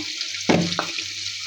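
Chopped onions fried in hot oil in a pan as turmeric, chili, salt and coriander powder go in for a shrimp and radish curry; a steady hiss swells into a brief loud sizzling burst, then settles.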